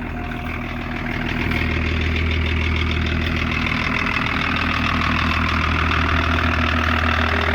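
A 1984 Lincoln Continental turbo diesel clatters to life and settles into a steady, rough idle, heard loud and close with a low rhythmic knock and no talking.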